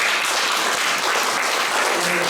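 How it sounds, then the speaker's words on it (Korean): Warm, full applause fills a church sanctuary for graduates at a New York seminary graduation thanksgiving service and 40th degree conferral ceremony, a steady dense wash of clapping throughout with no pause. "우리 졸업생들 위해서 다시 한번 뜨거운 박수로 부탁드립니다."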